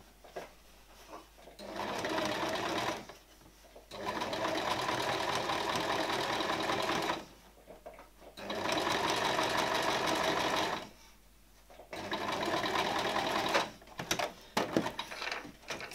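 A domestic sewing machine stitches a shirt sleeve, running in steady bursts of several seconds separated by short pauses, close and clear with no talking.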